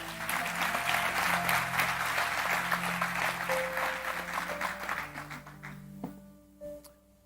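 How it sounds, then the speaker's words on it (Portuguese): A church congregation gives strong applause to the Lord, a dense round of clapping with a sustained musical tone beneath it, thinning and fading near the end. "Dê um aplauso bem forte ao Senhor."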